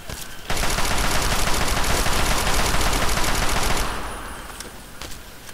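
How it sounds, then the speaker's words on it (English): Sustained rapid gunfire in Fallout 3 rattles loudly for several seconds, then drops off to a quieter tail, with no voices over it. "Who's shooting me?"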